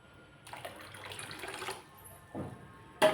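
Soaking water is poured off soaked moong dal in a kitchen, a close splashing trickle in a couple of short bursts with a clatter at the end.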